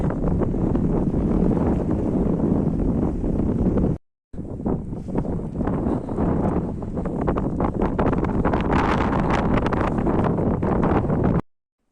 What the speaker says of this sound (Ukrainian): Вітер гуде, не знаю як звук буде.